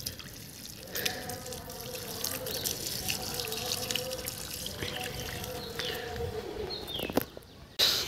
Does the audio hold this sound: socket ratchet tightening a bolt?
no